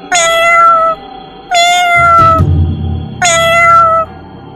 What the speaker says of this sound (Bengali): একটা বিড়ালের কান্নার আওয়াজ শুনে তাদের তিনজনেরই ঘুম ভেঙে গেল।